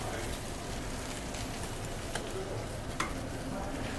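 Sauce in a pan on a kitchen stove starts to boil, giving a steady, fairly close sizzle and bubbling hiss, with a couple of faint clicks of utensils.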